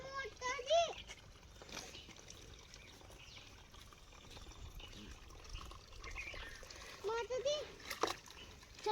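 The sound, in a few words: child splashing water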